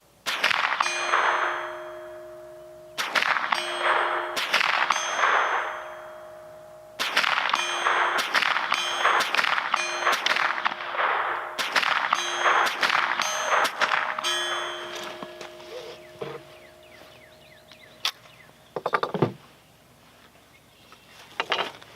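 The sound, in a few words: Rossi RS22 semi-auto .22 rifle shots hitting target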